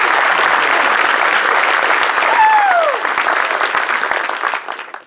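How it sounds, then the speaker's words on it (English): Broad applause from a graduation audience honouring a sergeant fills the clip, dense and steady, with a short whistle-like glide partway through before the clapping thins out. "Everybody give a round of applause for Sergeant Sneed."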